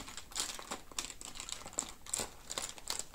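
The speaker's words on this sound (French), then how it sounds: "Là, je vois si ça se gomme bien." Eraser rubbed back and forth over paper, giving a series of quiet, scratchy rustling strokes in an irregular rhythm, close up with no voices.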